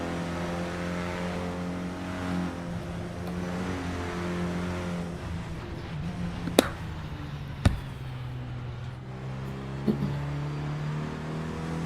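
Clio Cup race car in a sim racing game at Brands Hatch Indy drones steadily at high revs for the whole stretch, with a few sharp clicks and gear-change blips, close and continuous with no talk.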